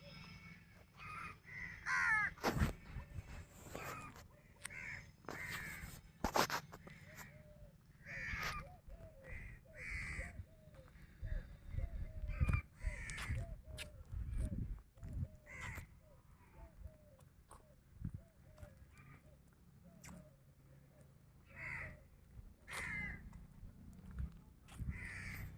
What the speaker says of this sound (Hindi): पक्षियों की आवाज़ साफ साफ सुनाई दे रही थी, जैसे कौवे बोल रहे थे